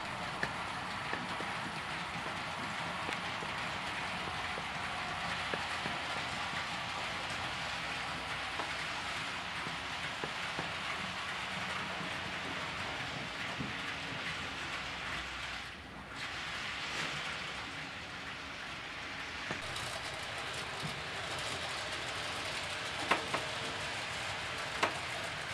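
An HO scale model train runs along a layout track, giving a steady, even rumbling whir that holds for the whole stretch with a few faint clicks over the rails.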